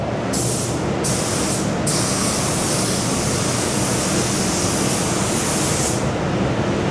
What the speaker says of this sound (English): Now I'm going to spray this at a high pressure at 3 bar